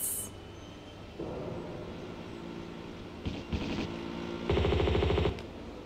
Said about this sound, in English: she's shooting the rat